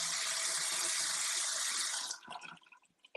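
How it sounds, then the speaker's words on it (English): Bathroom faucet at a double vanity running at strong pressure, a steady close hiss of water for about two seconds, then shut off leaving faint drips and handling noise. "Okay, got some good water pressure there."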